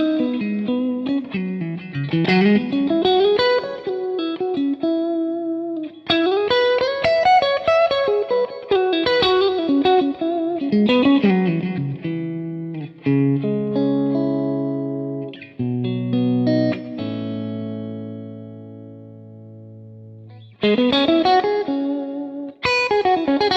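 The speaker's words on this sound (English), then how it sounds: "listen to what happens as I bring the reverb up to about halfway. The amp really starts to open up" Amplified Nation Ampliphonix guitar amp with its reverb set to about halfway, playing clean, ringing chords and melodic runs with a lush tail and some effects coloring, loud and continuous with brief pauses, no talking.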